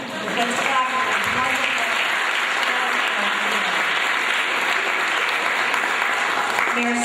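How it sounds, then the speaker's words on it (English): Sustained applause from a school audience of students, parents and teachers at a community school bicentennial celebration, steady and dense for several seconds, with a voice starting to speak near the end. "Let's clap for this"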